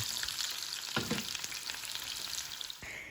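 Meat frying with two packets of Shan haleem spice mix, a steady close sizzle with occasional stirring scrapes, no talk.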